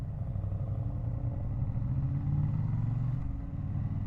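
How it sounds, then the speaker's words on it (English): A 2025 Triumph Bonneville T100 motorcycle with pea shooter exhausts rumbles while riding, a close, steady low exhaust drone that swells slightly mid-clip, with no talk. "It's all coming from the pea shooter exhaust."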